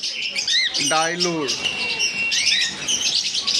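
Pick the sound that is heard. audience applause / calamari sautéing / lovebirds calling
lovebirds calling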